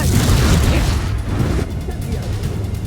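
Confringo fire spell explosions from the Hogwarts Legacy video game, a dense, loud burst of booming blasts and crackling debris that fills the whole span, with a slight drop in intensity partway through.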